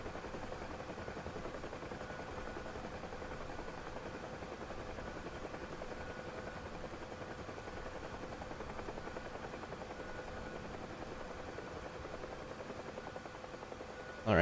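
A UH-1 Huey helicopter in the DCS World flight simulator drones steadily, a constant engine whine and rotor hum holding at an even level throughout with no talk.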